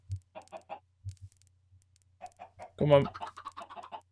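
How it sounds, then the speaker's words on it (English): Minecraft chickens cluck in short bursts, with one louder, longer squawk near the middle, while a person talks briefly over them. "Oh, there's another chicken here."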